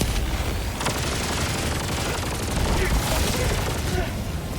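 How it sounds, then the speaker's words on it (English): Loud, continuous rapid gunfire in the Helldivers 2 game as a player shoots out an enemy fabricator, a dense unbroken barrage of shots and impacts lasting the whole moment. "Let's shoot out this last fabricator here."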